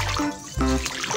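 A duck bathing in a clear pool, with close, fairly loud water sloshing and trickling in two short surges.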